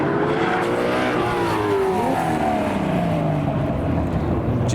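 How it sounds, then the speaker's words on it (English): A Corvette and a Nissan GT-R race side by side at an outdoor car show, their engines roaring loud and close with rising, overlapping revs as both accelerate hard through the gears. "Right, Corvette versus the GTR."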